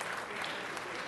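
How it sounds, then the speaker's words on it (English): Brief dense applause from a crowd at a city council meeting, steady clapping throughout. "Everybody give yourselves a round of applause."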